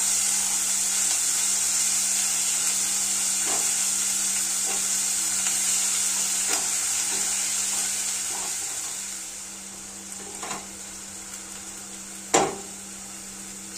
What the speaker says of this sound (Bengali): নাড়াচাড়া করে পেঁয়াজ বাটাটা খুব সুন্দরভাবে কষতে থাকবো।